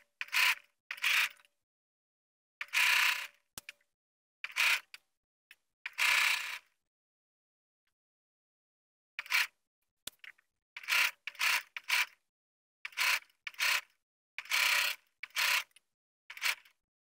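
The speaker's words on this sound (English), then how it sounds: "I'm gonna use my machine to baste it." A sewing machine basting a zipper onto pant fabric runs in short separate bursts, each a second or so of quick stitching, with silent pauses between the runs; it is close and fairly quiet.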